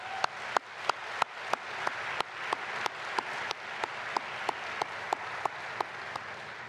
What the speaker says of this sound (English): Let's give this team of people a big round of applause.